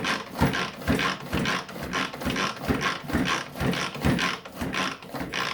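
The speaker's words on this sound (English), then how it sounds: "this is a tiny processor. This was frozen broccoli. So let's chop it up." A tiny food processor chops frozen broccoli in a steady series of loud, rapid pulsing whirs, with rattling chunks knocking against the bowl and no talk.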